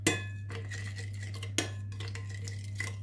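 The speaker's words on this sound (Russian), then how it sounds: "Все это мы хорошо перемешиваем" A spoon stirs a garlic and dill mixture in a bowl, giving a few clinks and scrapes of metal against the dish over a steady low background hum, close and fairly quiet, with no talking.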